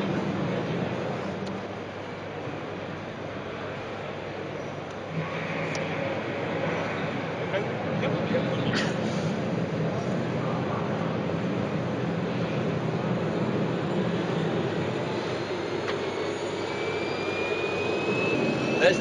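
A kerosene-fuelled gas turbine in a scale model locomotive starts up and spools, giving a steady, loud jet-like roar and whine that holds and swells slightly, with a voice faintly underneath.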